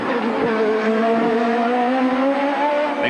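IndyCar race cars of the 1993 CART season drive past on the Detroit Grand Prix street circuit, giving a loud, steady engine whine that rises slightly in pitch and holds throughout.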